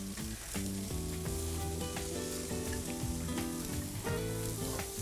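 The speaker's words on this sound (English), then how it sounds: "the sizzle tells me it is on" Fresh sushi-grade tuna burgers sizzling on a hot grill: a continuous crackling hiss with scattered pops, fairly close. A strong tonal layer, probably background music, runs underneath.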